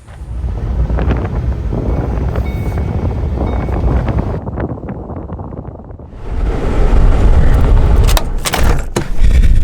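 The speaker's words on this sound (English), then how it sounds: "it's windy" Strong wind buffets the microphone in a steady low roar, swelling louder and gustier toward the end, with no voices, at the ruins of St. Thomas, Nevada, by Lake Mead.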